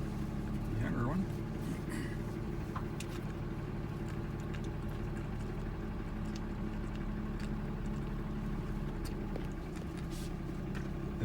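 A truck engine idles nearby at a campsite, a steady low rumble that continues for the whole stretch, with faint outdoor sounds above it.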